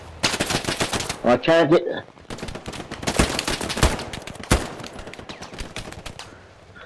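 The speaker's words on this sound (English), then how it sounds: "There's a guy shooting at me." Rapid automatic gunfire in a shooter video game with a tank nearby rattles in close, dense bursts as an enemy fires at the player, and someone talks over it.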